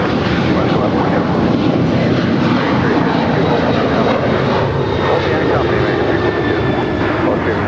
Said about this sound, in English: This is Alaska 1147 departing to Seattle on a 737-800.